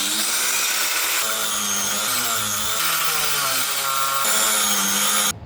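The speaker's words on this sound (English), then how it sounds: "So with me not wanting to snap any more bolts, it's angle grinder time." An angle grinder cuts off a seized bolt on a cheap V8 project car, a loud continuous high whine whose pitch dips and rises as the disc bites into the metal, then stops abruptly at the end.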